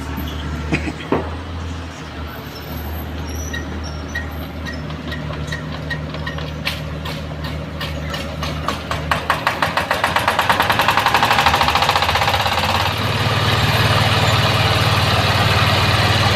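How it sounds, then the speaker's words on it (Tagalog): A cement mixer engine on a muddy construction site idles steadily, then revs up and runs louder and faster with a rapid mechanical chugging while mixing loaded cement, close by. "ganun lang po pinaandar yung ating makina ng para sa ano, sa paghalo ng semento."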